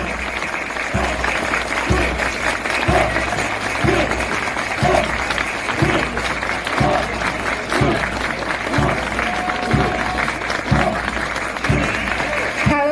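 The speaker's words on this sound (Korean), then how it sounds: "모두 큰 박수 부탁드립니다." Applause from the assembled crowd at a military basic training graduation ceremony for new recruits, a steady broad clapping lasting throughout with a rhythmic thumping beat underneath, moderately loud and continuous.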